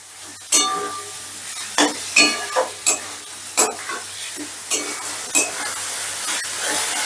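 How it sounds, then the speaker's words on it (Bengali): Spice paste with tomato sizzling in a pan while a spatula stirs and scrapes it in repeated sharp strokes over a steady frying hiss, close and clear, no voices. "এবারেও আমি মশলাটাকে প্রায় 6 থেকে 7 মিনিট বেশ ভালো করে কষে নেব।"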